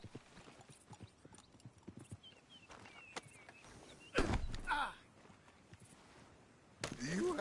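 Hooves of a horse clip-clop in a steady, quiet walking rhythm in a Red Dead game, with a louder burst of movement and a short snort or whinny partway through.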